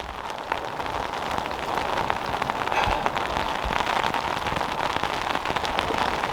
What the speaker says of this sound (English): Yeah, I don't know how good this video is going to be with all this rain.